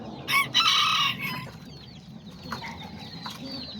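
A small Azteca rooster and chickens in a backyard flock, with a loud nearby crow near the start, then scattered clucks and softer calls under low outdoor background noise.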